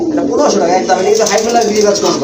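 Pigeons coo close by under loud, continuous conversation among people looking over birds for sale.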